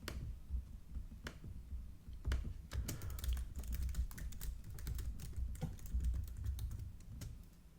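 Quiet, close typing on a computer keyboard, rapid uneven clicks and taps of keys in bursts, heard alone with no talking.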